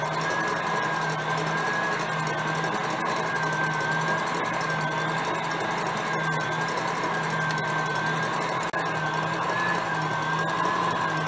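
An electric mixer whirs steadily while beating egg yolks into a fruit tart batter, a constant close motor hum with a high whine that holds at an even level from start to finish.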